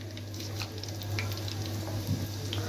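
Chicken pieces frying in hot oil for a second crisping fry, a quiet steady sizzle with a faint low hum beneath and occasional small pops throughout.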